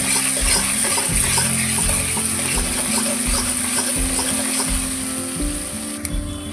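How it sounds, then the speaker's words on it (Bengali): Onion and garlic frying in hot oil with bay leaf, cardamom, cloves and cinnamon, a steady close sizzle over a low rhythmic rumble, continuous throughout with no voices. "এবারে দিয়ে দিব পেঁয়াজ, এবারে দিয়ে দিব রসুন"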